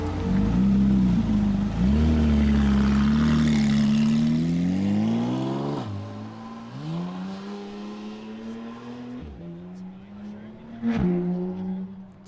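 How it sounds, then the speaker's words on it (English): A Toyota GR Yaris with launch control and anti-lag revs hard, the engine note holding high and then dropping and climbing back several times, loud and close, with sharp pops toward the end. "my friend's Toyota GR Yaris, which has launch control and anti-lag"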